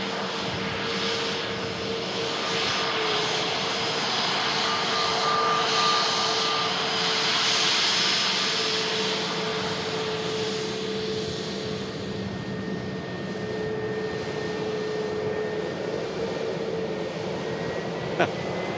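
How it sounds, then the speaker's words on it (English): Jet engines of an EasyJet airliner at an airport rumble as a steady, broad roar that holds throughout, fairly loud and continuous with a sustained tonal whine, and no clear talk over it. "But first of all, we have a EasyJet."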